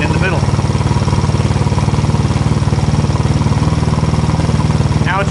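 A fuel-injected GY6 171cc engine in a Honda Ruckus runs steadily with its fuel mixture richened by 30%, a loud, close, even pulsing drone throughout, with faint talk at the start and end.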